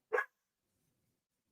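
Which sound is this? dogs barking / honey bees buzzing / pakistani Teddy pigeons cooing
dogs barking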